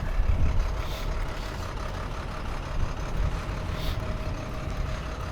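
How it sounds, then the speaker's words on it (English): A big truck idles and rumbles nearby while being loaded. Deep engine noise runs throughout, with faint hissing and higher mechanical tones drifting over it. "Here's a big truck."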